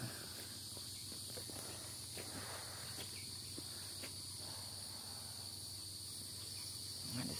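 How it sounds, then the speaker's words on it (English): Crickets kept in a clean cage chirp steadily in high, continuous trills. Faint scratchy rustles and light taps sound nearby underneath, and nobody speaks. "I got a lot of big, juicy crickets"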